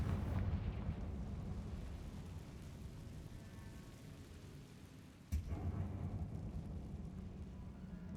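Confringo blasting-curse explosion in Hogwarts Legacy, a deep rumbling low boom that fades, then a sharp crack followed by renewed rolling rumble.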